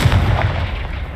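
A Confringo fire-spell blast in Hogwarts Legacy, a loud, close, booming burst with a rumbling low-end tail that decays over about a second, heard alone.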